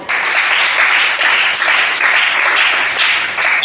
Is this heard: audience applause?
yes